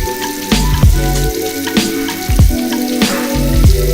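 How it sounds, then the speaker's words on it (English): Makeup brushes are washed with shampoo under running sink water, a close, steady stream hissing over the brush with rhythmic squelching strokes roughly every second as it is worked against the sink bottom. "you can use the bottom of your sink to kind of just like work out the powder and all the makeup from the brush"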